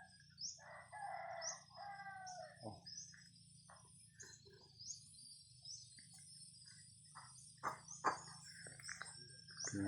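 A rooster crows and chickens cluck amid a steady chorus of chirping insects, with scattered faint noises in an outdoor setting.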